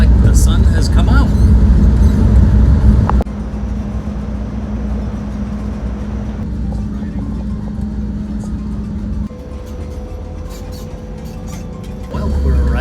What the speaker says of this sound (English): the bus is departing